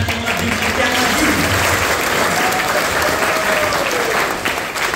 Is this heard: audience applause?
yes